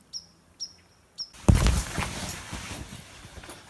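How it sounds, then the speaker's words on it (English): Birds calling at night around an off-grid campsite by a dying fire, three short clear chirps spaced about half a second apart, then a louder rustling clatter close by with fainter calls continuing behind it. "Listening to all the birds do their calls at night."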